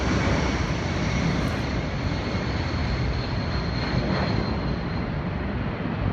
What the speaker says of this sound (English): there was an air show in Australia where planes flew really close to buildings.